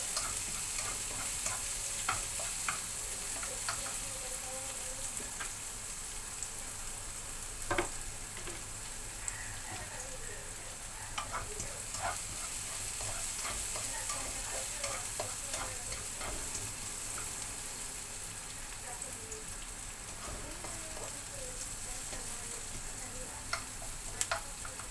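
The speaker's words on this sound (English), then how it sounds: "I fry also until a little bit brown." Chopped onion fries in a pan until browning, for a chicken soup with green papaya and moringa leaves; a steady, close sizzle runs throughout, broken by frequent scraping and ticking from stirring.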